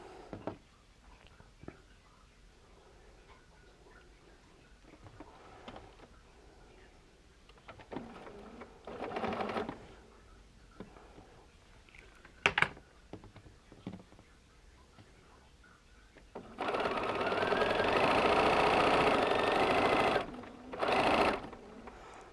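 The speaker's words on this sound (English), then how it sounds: "I'm going to make myself a little starter fabric and we can get to sewing" A sewing machine stitches quilt fabric, first in a few short stop-start bursts of rapid mechanical whirring, then a longer steady run of close, busy stitching followed by one more brief burst, with light handling noises in between.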